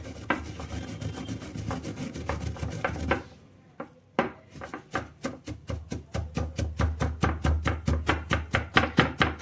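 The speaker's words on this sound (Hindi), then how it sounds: "इस तरीके से हम चलाते हुए इसका दरदरा सा पाउडर बनाकर तैयार कर लेंगे" Roasted spices are crushed into a coarse powder with quick, rhythmic pounding and grinding strokes, close and loud, pausing briefly midway before resuming at a faster, even beat.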